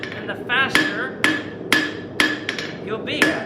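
Sharp hammer strikes on an anvil while forging steel S-hooks, five loud, ringing blows at a steady half-second rhythm, close up, with light rebound taps on the anvil face between them.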